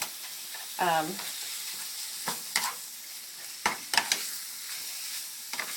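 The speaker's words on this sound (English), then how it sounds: "you just kind of keep stirring it because you don't want it to burn." Ground meat for spaghetti browning in a pan, with soft sizzling and a few scraping stirs and clinks of a utensil against the pan, close and moderately quiet, with no talking.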